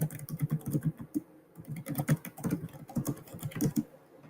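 Rapid typing on a computer keyboard while entering a comment into a time-tracking form, with dense, steady key clicks running continuously at close range and no talk.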